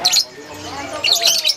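A songbird entered at a Cirebon bird club contest sings in bright, high chirping bursts at the start and end, close by over a steady murmur of crowd noise.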